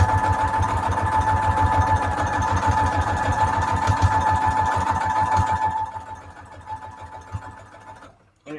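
A sewing machine runs a long straight stitch down the middle of a fabric junk journal cover, a steady close mechanical whirring that continues for several seconds, then slows and fades near the end.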